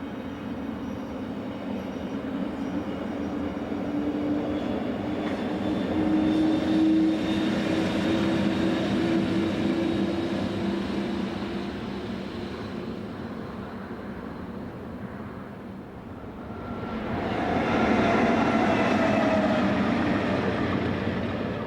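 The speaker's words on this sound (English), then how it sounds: "Here the 1426 departure leaves with electric locomotive 1144-238 providing power at the rear." An electric locomotive, 1144-238, pushes a departing local train from the rear at Hochfilzen station, making a steady rumbling drone that swells, dips, then rises again as it pulls away, with no voices.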